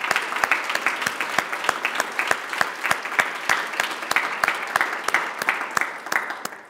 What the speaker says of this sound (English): We can't applaud them enough.